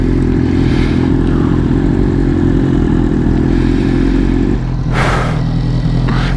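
A BMW M1000RR motorcycle engine runs steadily and loud, close by, with a brief sharper rev or burst near the end; no voices.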